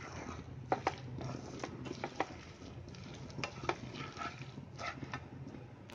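Coconut ladoo mixture made with condensed milk being stirred in a pan over a medium flame, giving soft scraping and light sizzling with scattered spoon clicks, steady and close throughout with no talking.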